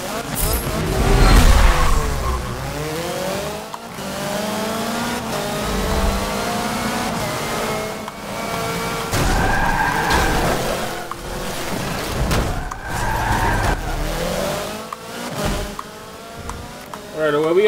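A racing video game car, a Ken Block car, runs the Dubai track, its engine revving and shifting repeatedly in rising sweeps while someone talks over it.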